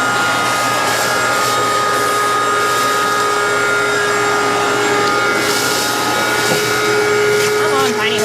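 A vacuum cleaner with a small hose cleans the interior of an abandoned 1961 Ford Falcon, a loud, steady whining roar throughout with slight shifts in pitch as the nozzle moves, and a voice faintly under it.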